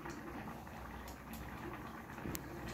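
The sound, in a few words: lentils (dal) boiling in a pot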